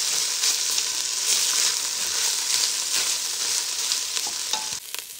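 Rice frying and being stirred in a pan with black pepper for a split peas cook-up: a loud, continuous bright sizzle throughout, broken by faint scrapes of a utensil and a brief clink near the end.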